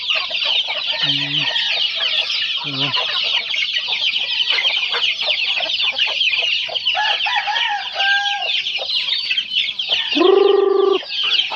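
A crowd of chickens clucks and squawks busily up close, with a rooster crowing loudly near the end.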